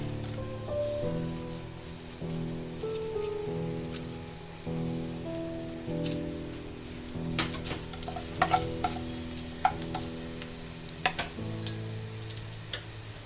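Whole garam masala spices are added to frying onion for egg biryani, giving a crackling sizzle with sharp clicks and spatters as a spoon stirs, most active in the second half. Steady background music plays underneath.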